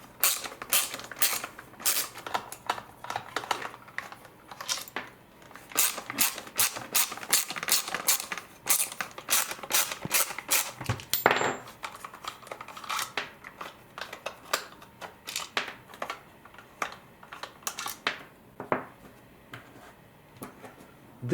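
A screwdriver works Phillips screws out of the underside of a Dyson V10/V11 cordless vacuum, giving repeated creaking, ratcheting turns in close, quiet bursts.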